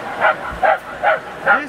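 A show dog at a dog show in the Philippines gives four evenly spaced, loud, close barks, each short and clipped.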